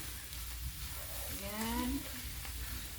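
Pork bubbles and fries in hot oil for fried rice, a soft continuous crackle under a low background hum, with a brief rising tonal sound partway through.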